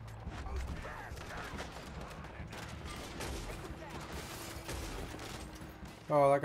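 Gunfire in the video game Red Dead Redemption 2 during a bank robbery, a dense spread of rapid shots and crackling reports under background game sound, ending in a loud burst, with a voice speaking over it.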